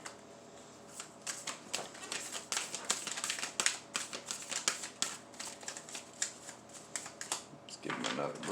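Tarot cards shuffled in quick, crisp riffling bursts that repeat steadily, close and fairly loud, with a brief pause near the end.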